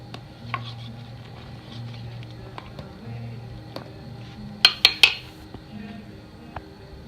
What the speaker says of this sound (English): stir these hops in because they're certainly causing it to react.